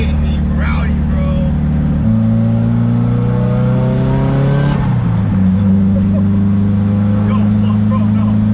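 SR20-engined car fitted with an HKS wastegate accelerates hard, its engine note rising in steady harmonic sweeps, dropping abruptly at a gear change to fourth, then climbing again, loud and close with people talking over it.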